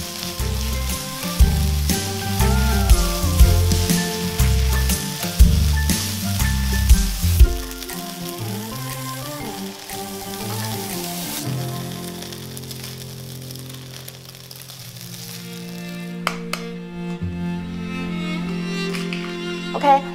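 Fried rice with beef mince sauce and ketchup being stir-fried in a frying pan for omurice: steady loud sizzling with repeated scraping and tossing strokes of the spatula, easing to a quieter hiss, then a few clinks near the end.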